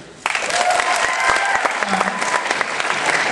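A comedy club audience bursts into loud applause after a brief quiet start, with scattered cheers and voices mixed into the steady clapping that continues to the end.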